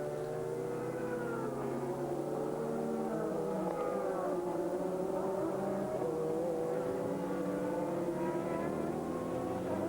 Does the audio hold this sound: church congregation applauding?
no